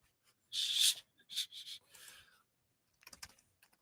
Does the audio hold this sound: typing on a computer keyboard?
yes